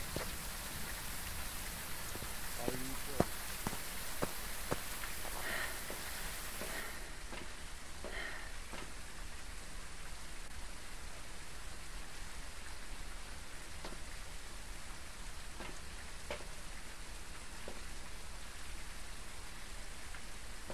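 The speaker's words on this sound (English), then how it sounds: "It's the rain ambiancing me." Constant heavy rainfall in the video game Phasmophobia hisses evenly throughout, with occasional sharper drips and taps standing out against the steady wash.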